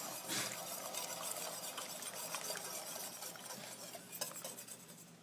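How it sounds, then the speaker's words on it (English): Sherry glaze being whisked into a pan for ham, a soft continuous stirring and scraping texture that stays faint and steady throughout. "I'm just going to whisk this in, and it'll thicken up pretty quickly"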